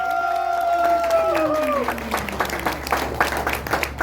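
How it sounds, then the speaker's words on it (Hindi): An audience at a retirement silver jubilee function breaks into applause, a crowd of clapping hands building and continuing under a fading held tone at the start. "एक बार जोरदार तालियां।"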